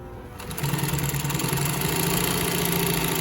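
A Singer 112W139 double-needle walking-foot industrial sewing machine starts up and runs fast and steadily, giving a loud, continuous mechanical whirring hum with a rapid rhythmic needle chatter and no talking.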